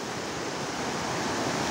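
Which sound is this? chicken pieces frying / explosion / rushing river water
rushing river water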